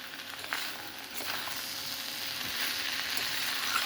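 Okra and potato dry curry with ginger-cumin paste sizzles steadily in a pan, a close, continuous frying hiss that swells slightly with a few stirring scrapes.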